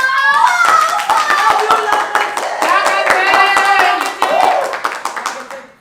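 An audience claps at a staged storytelling event honouring a bandit chief, loud sharp handclaps in a steady patter with a voice speaking over them, fading toward the end.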